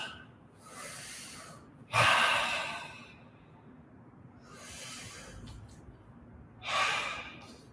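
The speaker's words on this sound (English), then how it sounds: "Take a second to catch your breath." Heavy breathing from a person catching their breath after a set of taekwondo kicks, with four loud, close exhales and gasps spaced a few seconds apart and quieter breaths between them.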